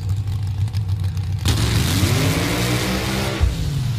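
A Top Alcohol Dragster engine revs hard and loud, a steady supercharged roar that climbs sharply in pitch partway through and holds at full intensity to the end.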